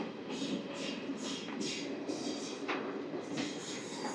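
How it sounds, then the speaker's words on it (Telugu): A train hauled by a WAP-7 electric locomotive runs past on the neighbouring track, a steady broad rumble with rhythmic bursts of hiss and clatter heard from close by. "పక్క ట్రాక్లో ఏదో ట్రైన్ అయితే వస్తుంది"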